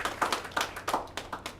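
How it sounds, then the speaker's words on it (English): A small group at a city press update claps for homeless services workers, a brief, sparse burst of distinct hand claps heard nearby with no talk over it. "they absolutely deserve a round of applause"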